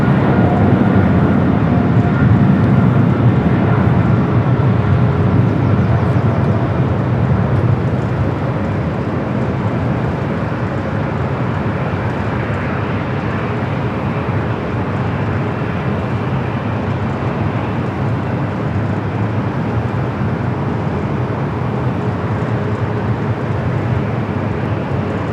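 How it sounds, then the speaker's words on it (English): A Boeing 777 freighter on its takeoff roll down runway 25 left at LAX makes a loud, steady jet roar, heaviest at the start and holding strong and broad for the whole stretch with no talk over it. "we got a 777 freighter rolling down at 25 left"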